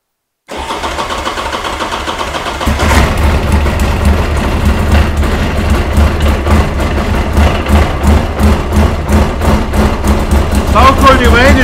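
A Buell XBRR racing motorcycle engine cranks and fires up, going from a quieter starter whir to a loud, sustained, raspy running roar with blips of throttle, close by and dominating.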